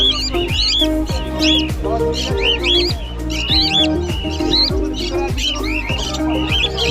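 Cockatiels and other caged birds chirp continuously at the Sherampore pet market, a dense, close layer of tweets and squawks over a repeating low mechanical thump, with faint voices in the background.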